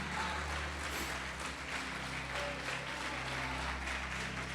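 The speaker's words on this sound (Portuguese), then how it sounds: "Pode aplaudir e glorificar." Church congregation applauding during a sermon, a broad wash of many hands clapping at a steady moderate level, slightly distant and roomy, with a low hum beneath and no one speaking.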